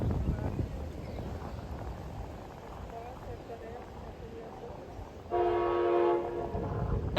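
An Amtrak Capitol Corridor train, number 540, eastbound to Sacramento with a cab car leading, sounds its horn in one steady blast near the end, over rumbling rail noise and people talking.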